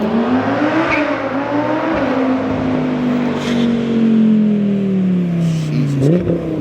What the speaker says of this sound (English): We got Po Drago's GT500 right here